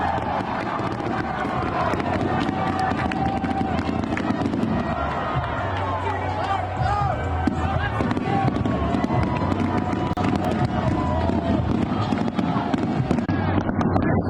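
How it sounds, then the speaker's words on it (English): Fireworks pop and crackle over the constant roar of a large outdoor crowd cheering at Deer District in Milwaukee after NBA Finals Game 4, with wind buffeting the microphone. "punctuated by fireworks"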